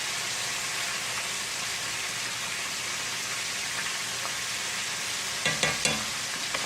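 Food frying in oil at about 325 degrees in a cast iron pan, a dense continuous sizzle and crackle held close throughout, with a few sharper pops and clinks near the end.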